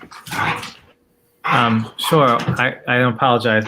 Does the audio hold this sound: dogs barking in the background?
yes